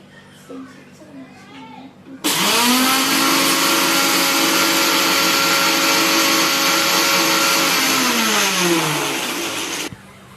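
A mixer grinder pulverises six Oreo biscuits with two spoons of sugar in the jar, starting abruptly with a loud steady whirring roar that runs about eight seconds before cutting off. Brief talk comes before it.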